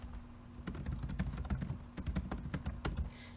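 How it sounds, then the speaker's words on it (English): Quick, irregular clicking of keys on a computer keyboard, close and clear, with brief pauses between bursts of typing. "You just begin typing."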